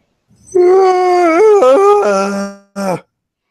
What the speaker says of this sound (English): And there I've demonstrated a yawn.